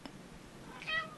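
A cat lets out a single short, faint meow near the end, set against a quiet room background.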